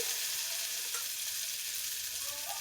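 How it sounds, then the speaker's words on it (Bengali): Onion frying in hot oil gives a steady, close sizzle that hisses on without pause, with faint stirring scrapes and no talking. "খুব সুন্দরভাবে পেঁয়াজটা ভাজা হয়ে গেছে"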